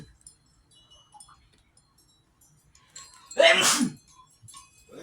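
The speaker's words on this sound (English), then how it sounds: "I've been sneezing too." A single loud, sharp sneeze bursts out close up after a few quiet seconds of faint background noise and small clinks.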